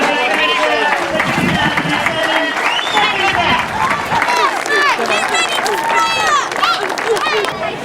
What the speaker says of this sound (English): let's give a big round of applause to the second place finisher